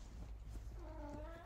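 A pet cat named Findus lets out a short rising meow over low rumbling background noise.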